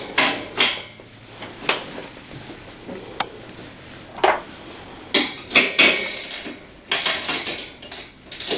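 An 11/16 nut is worked off the front axle of a Tao Tao 50 T3 scooter during assembly, with sharp metallic clinks and wrench clacks coming in irregular bursts between quiet pauses.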